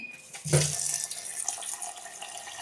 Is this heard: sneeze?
no